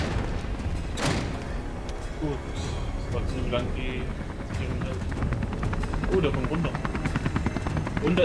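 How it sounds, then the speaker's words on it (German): A helicopter from the video game Beyond: Two Souls thrums with a continuous low rotor chop, loud and close, mixed with thuds and game sounds while people talk over it. "Aber der Heli nervt mich halt."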